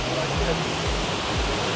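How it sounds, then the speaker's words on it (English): A waterfall roars with a continuous, loud, dense rushing wash from very close up, steady throughout the short stretch. "We're literally under the waterfall."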